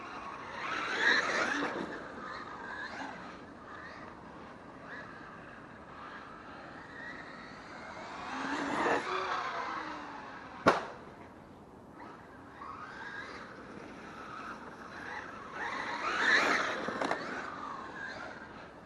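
A Traxxas Maxx RC monster truck drives outdoors, its electric motor whining in three broad surges that rise and fall as it passes, with a sharp knock midway and no talking.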